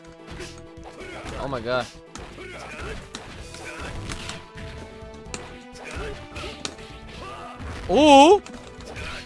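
Punches and impacts land in the fighting video game Garo: Mark of the Makai as a series of short whacks and crashes, mixed with game music and a player's excited exclamations.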